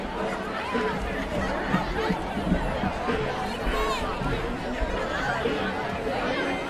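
Large crowd at a high school football game at Central, Holyoke visiting, producing a steady dense chatter and babble throughout, with occasional laughter and shouts rising from the continuous roar of many voices.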